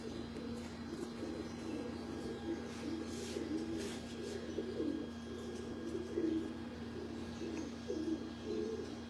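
Pigeons on a Lahore rooftop, including white-eyed birds, coo steadily in soft low murmurs, several overlapping in a continuous close chorus over a faint steady hum.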